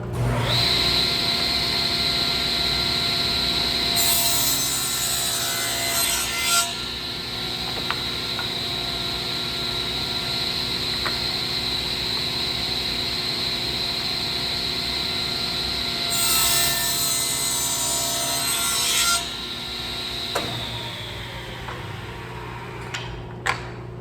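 A table saw rips wood pieces for a birdhouse with 45-degree bevel cuts, its motor whining steadily and loudly. Two brighter bursts of blade-through-wood cutting rise over the hum, followed by the motor winding down.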